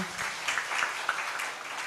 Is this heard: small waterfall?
no